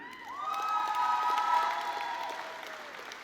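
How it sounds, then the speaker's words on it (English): A graduation crowd applauds and cheers for performing-arts graduates, a broad wash of clapping with high shouts and whoops rising to a peak midway, then easing off slightly. "How about one more round of applause for all the instrumental music majors?"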